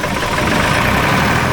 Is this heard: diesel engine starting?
yes